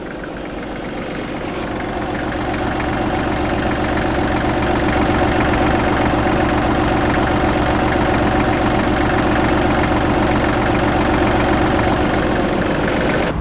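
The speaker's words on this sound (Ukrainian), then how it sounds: "Після того, як ми прогріли двигун даного трактора" A Kubota GT-23 mini tractor's small three-cylinder diesel engine idles steadily with a low, even chugging rumble and slight knocking, loud and close, rising slightly at the start.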